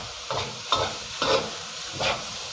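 Rice is stir-fried with shrimp paste chili dip in a pan: four evenly spaced scraping stirs rise over a soft, steady sizzle, close up and fairly quiet.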